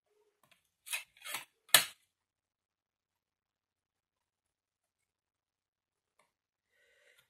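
Scissors snip through scrapbook paper in three quick, close cuts, then silence with only a faint click near the end.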